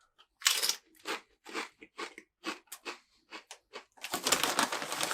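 Sharp, close crunches of someone biting into and chewing a powdered snack, a quick irregular series of crisp bursts ending in denser, continuous chewing.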